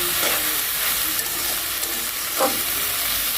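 Green leafy vegetables stir-frying with dried chilies in a hot pan, a steady close sizzle with occasional scraping stirs and brief louder hisses.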